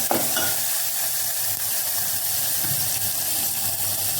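Onions hitting hot oil in a pan already holding ginger-chili paste, curry leaves and garlic cloves, a loud steady sizzle and hiss close up with faint stirring, no voices.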